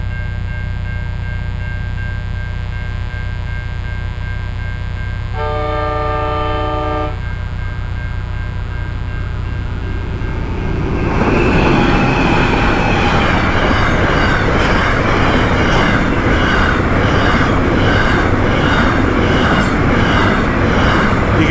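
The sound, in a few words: freight train passing with horn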